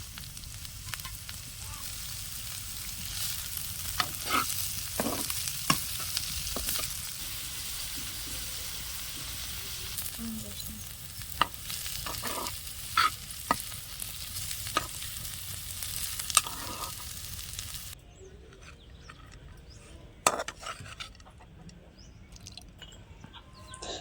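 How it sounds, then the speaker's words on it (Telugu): Thinly sliced onions and green chillies frying in a pan, a soft continuous sizzle broken by repeated spatula scrapes and knocks against the pan, close and fairly quiet. "సన్నగా కట్ చేసి పెట్టుకున్న ఉల్లిపాయలు కూడా వేద్దాం కొంచెం పోతేనా నాలుగు కట్ చేసి పెట్టుకున్న పచ్చిమిర్చి చిలుకలు కూడా వేసి కొంచెం సేపు వేయించేసుకుందాం"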